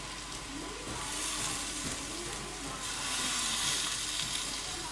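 Finely chopped tomato with onion sizzles steadily in a very hot pan, with stirring noises over the constant frying hiss.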